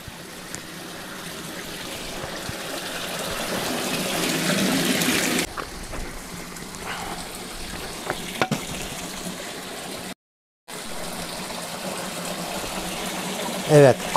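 Water runs from the six-spout Altıoluk fountain at Çamlıyayla, a steady splashing gush that stays constant in the background, with a few knocks and a brief dropout partway through.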